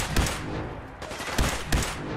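A newly obtained weapon fires in Fallout 4, giving four sharp, punchy gunshots in quick uneven succession, loud and close, with no talking.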